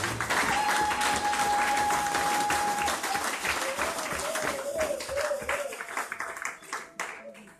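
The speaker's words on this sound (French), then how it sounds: "Est-ce qu'on peut acclamer Dieu pour la gloire de Dieu?" Sustained, loud applause from a congregation acclaiming God at a church service, a dense crowd of clapping hands with a held tone underneath, thinning slightly toward the end.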